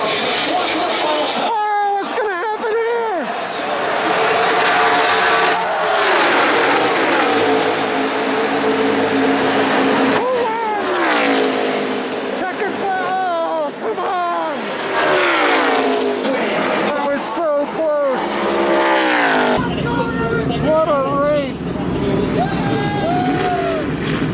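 Race cars roar on the final lap at Daytona during a Duel qualifying race, loud sustained engine drones rising and falling as packs pass, with a crowd and voices mixed in.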